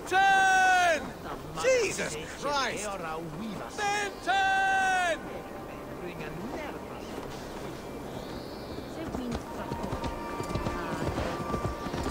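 Sheep bleat in the video game Assassin's Creed Valhalla, a few wavering cries early on among game effects and hoof-like clip-clops, followed by a denser, noisier stretch of background game sound.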